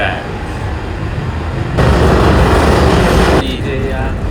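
Loud, steady rumble of a train, swelling heavier for a couple of seconds in the middle before easing back.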